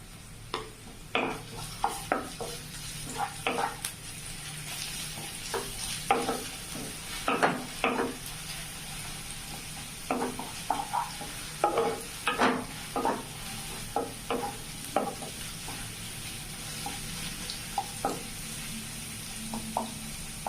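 Onions for chana masala fry in a pan while being stirred, giving a steady soft sizzle broken by repeated scraping strokes of the spoon, close up and moderately loud, with no one talking.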